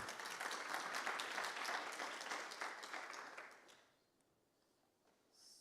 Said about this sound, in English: put your hands together just for a little introductory applause